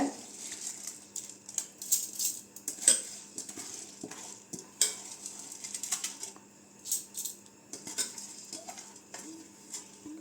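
Grains of soaked rice clatter and scrape into a mixer jar in uneven bursts, with metallic clinks from a spoon close by.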